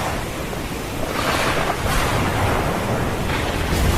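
Heavy rain drumming on an old tin roof, a dense steady wash of noise that swells and eases in broad surges, close and without speech.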